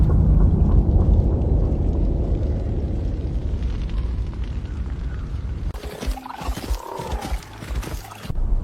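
A massive explosion destroys a spaceship after a giant creature's tail strikes it, a loud sustained rumbling roar that shifts into a harsher crackling burst near the end, with no speech.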